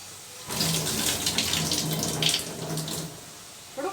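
Water runs steadily into a pot for about two and a half seconds, a close splashing stream that stops, followed by a brief clink.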